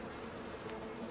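Bees in the survival video game Icarus give off a continuous, even insect buzz that holds steady through a short stretch with no pauses.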